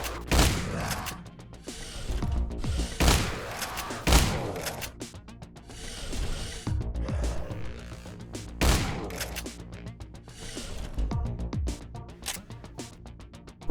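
Gunfire and grenade explosions from the video game Extraneum, with heavy blasts and bursts of shots landing every few seconds amid mechanical clanks and thuds, loud and close with no talk.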